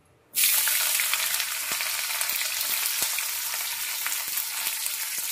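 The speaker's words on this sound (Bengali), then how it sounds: "এবার ক্যাপসিকামটা ভেজে নেব" Capsicum hits hot oil for fried rice with a sudden sizzle that stays loud and steady, close by, with a few faint clicks of stirring.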